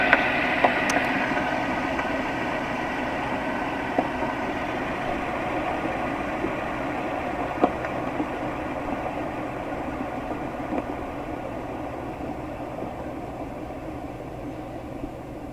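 A motor generator runs with a steady, smooth mechanical hum and whir at constant speed for the whole stretch, close by, with a few faint clicks and no talk.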